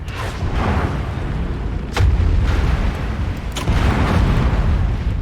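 A missile explodes during mech combat in MechWarrior 5: Mercenaries, producing heavy booming blasts near the two- and three-and-a-half-second marks over a constant low rumble of battle noise.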